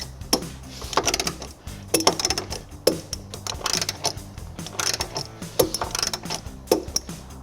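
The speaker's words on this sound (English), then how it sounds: "we'll tighten and torque the bolts going into the body using a 3/4 socket" A ratchet with a 3/4 socket tightening trailer hitch bolts into the body of a 2022 Toyota Sienna, a steady run of close, rapid metallic clicks in repeated bursts.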